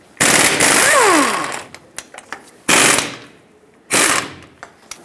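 A power tool with a 21 mm socket rattles off caliper bolts on a Ford F-350 front brake in three sharp bursts. The first burst is the longest and winds down at the end, with small clicks between the bursts.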